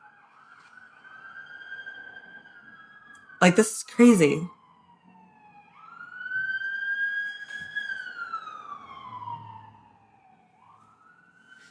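A wailing siren rises and falls outside at moderate distance, with a brief burst of a person speaking and a second siren tone joining partway through.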